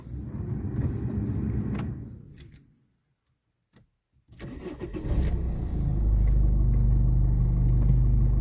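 A car engine idles loudly, cuts out into near-silence, then cranks and catches with a starter whir. It settles into a steady, close running hum as the car pulls away slowly.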